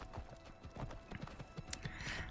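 Horse galloping up in the video game Skyrim, close hoof clip-clop beats in a quick uneven rhythm, with a brief whinny-like burst near the end.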